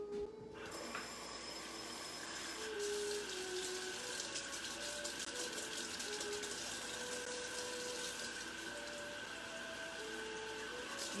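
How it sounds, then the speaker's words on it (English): Warm water runs from a tap into a cup with a steady close gush that starts after a short moment and continues throughout, with a faint tonal hum beneath the flow. "I am going to put a cup of warm water in here"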